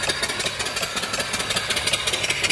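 A live steam mill engine with its exhaust piped up the boiler stack chuffs in a fast, steady rhythm, a loud close run of hissing beats over a continuous mechanical rumble.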